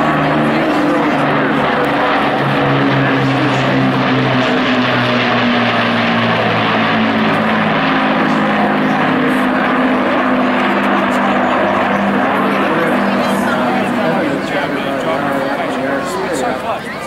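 Propeller aircraft flying overhead at the Clacton Air Show, a steady loud engine drone with shifting tonal bands that holds for the whole stretch while someone talks throughout.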